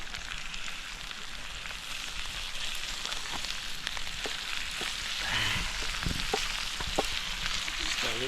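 Buff innards fry in a hot pan with a dense, steady sizzle and crackle, stirred with intermittent scraping and tapping from a utensil, close and continuous throughout.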